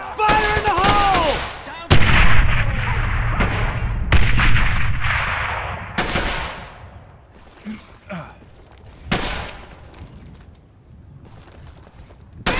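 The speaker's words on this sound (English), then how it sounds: "I'm throwing a grenade! Fire in the hole!" A grenade explosion and bursts of gunfire from the Brothers in Arms: Hell's Highway war video game, with loud sharp blasts in the first half giving way to scattered, fainter shots and a shouted voice.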